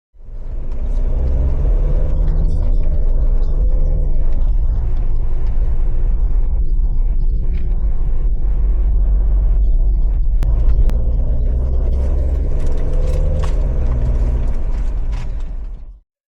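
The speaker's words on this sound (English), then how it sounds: "the sound of that 2-liter turbo diesel easily found its way into the cabin" A deep, steady 2-liter turbo diesel engine drone heard from inside the cabin of a 212 T01 SUV, continuous low rumble with faint mechanical rattles and creaks throughout.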